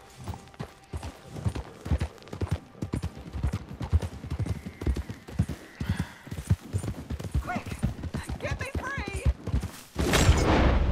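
Horse hooves clip-clop in a steady rhythm from a Red Dead Redemption 2 game scene, with a brief whinny and bursts of voices over the hoofbeats, ending in a loud rushing noise.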